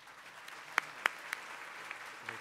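An audience applauds to welcome the platform group at a Colorado State University College of Agricultural Sciences graduation, with faint, scattered claps and a few sharper distinct claps standing out over a quiet room.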